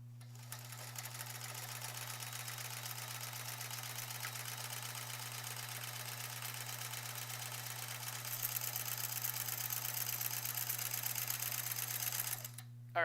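A sewing machine running steadily during free motion quilting of sampler blocks, a continuous close mechanical hum with a fast even needle patter, slightly louder toward the end before stopping.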